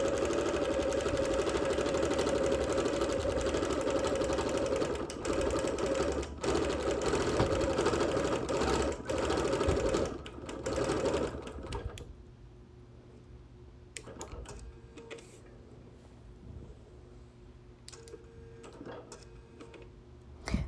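A sewing machine quilting on wool runs in a loud, steady mechanical whir for about twelve seconds, then stops, leaving faint ticks and soft handling noises.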